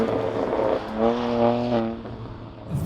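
BMW M2 Competition fitted with a loud Milltek equal length exhaust, a deep steady engine drone rising in pitch through a rev before easing off and settling, close and fairly loud.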